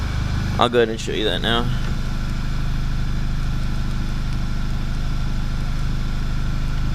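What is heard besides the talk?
VW MK6 GTI engine running with new HPA intake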